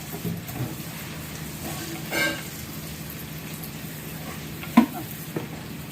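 Crab frying in oil with salt for a seafood crab curry, a faint steady sizzle broken by a few soft stirring scrapes and one brief clunk.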